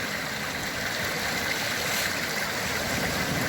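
A little brook or stream runs close by near the sea on a beach, its broad, rushing, gurgling water flowing steadily and loudly with no voices.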